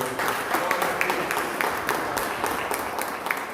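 Congregation applause for the Lord at a Portuguese-language church service on obedience, a steady wash of many hands clapping throughout, moderately loud with a faint voice or two mixed in.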